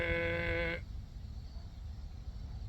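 A voice imitates a brief, droning foghorn-like snore, then fades into quiet background noise.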